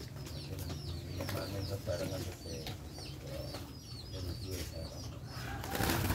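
Zebra doves (perkutut), local birds from Blora, coo repeatedly amid other bird calls and faint background voices, a steady busy outdoor bird chorus.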